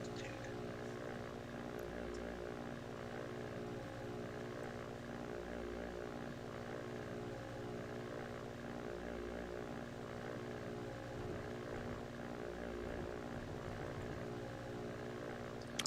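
Propeller airplane in flight in a video game, a continuous droning engine hum with steady harmonic tones, even and unbroken for about sixteen seconds, with no voices.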